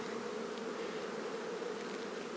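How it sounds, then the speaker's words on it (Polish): Honeybees crowd the bottom board of a strong colony's hive, making a dense, steady hum up close. "Bardzo dużo pszczół jest na dennicy."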